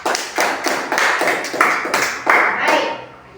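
A classroom group claps together for classmates after a presentation, a loud rhythmic burst of roughly regular beats that thins and fades toward the end.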